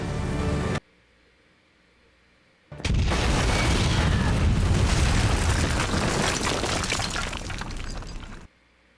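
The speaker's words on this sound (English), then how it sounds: "That's a bomb." A bomb blast from an episode of the fantasy series Shadow and Bone, loud and sustained, with a roaring, crackling burst that follows a short silence and runs for several seconds before cutting off abruptly.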